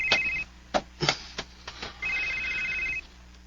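A telephone rings with a bright electronic warble, one long ring at the start and another about two seconds later, with short knocks and handling noises in between.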